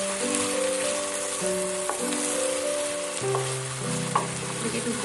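Sliced onions frying in oil in a pan, a steady close sizzle and crackle with occasional stirring scrapes, over a faint background hum.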